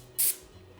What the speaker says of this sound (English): we need to spray it down so it doesn't stick